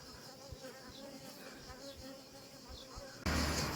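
Honey bees swarm over a hive frame, giving a continuous close buzzing hum with small flickers of wings. Near the end a sudden louder rush of noise cuts in.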